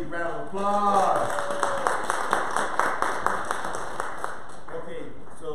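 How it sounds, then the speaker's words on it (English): At a Sunday church service, a congregation gives a round of applause that comes through as evenly spaced, rhythmic claps after a speaking voice at the start, fading out as the talk resumes near the end. "That deserves a major round of applause."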